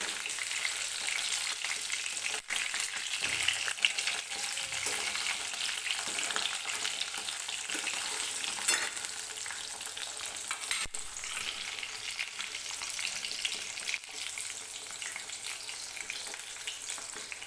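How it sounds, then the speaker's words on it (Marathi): Eggplant pieces frying in oil in a pan, giving off a continuous, even sizzle with occasional stirring clatter, close up and with no voices. "त्यासाठी सुरुवातीला मी वांगी फ्राय करून घेते तेलामध्ये"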